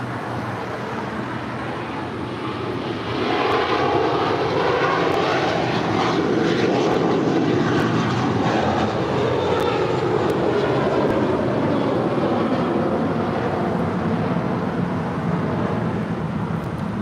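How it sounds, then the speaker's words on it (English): American Airlines A321 airliner, Flight 1871 bound for Phoenix at LAX, roars past at close range; the broadband engine rumble swells after about three seconds and holds steady and loud, with no voices. "That was American Airlines Flight 1871 and then A321."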